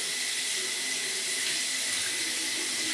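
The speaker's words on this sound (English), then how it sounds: "I'm going to put water on here to see if it flows through or if it spreads out." Water pours steadily onto the lint screen of a Samsung dryer, a continuous close hiss and splash with no pauses for the whole stretch.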